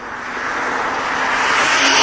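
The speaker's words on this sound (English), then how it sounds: "This is the Ferrari 612 Scaglietti. That's 6 litres, 12 cylinders" A Ferrari 612 Scaglietti's 6-litre V12 roars steadily and loudly at close range, a continuous smooth engine drone that swells slightly as it builds, with no talk.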